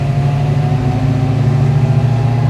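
A 1969 Ford Mustang Boss 302 V8 rumbles steadily from inside the moving car, a deep, even drone with a low throb and no revving, close and loud.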